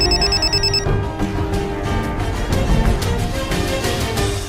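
A telephone rings with an incoming call in a Hindi comedy series, the bright ring tone standing out clearly at first before fading under a busy background of sound.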